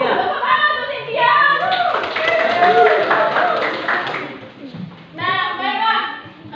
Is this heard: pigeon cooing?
no